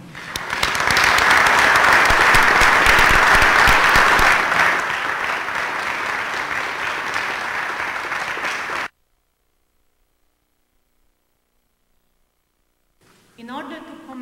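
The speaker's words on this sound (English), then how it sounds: "Ladies and gentlemen, please give a round of applause to the brave defenders of our beloved Poland." Crowd applause at a Pulaski Day 2013 gathering at the Polish Museum in Chicago, loud and dense for about nine seconds before stopping abruptly; after a silence, a voice briefly begins speaking.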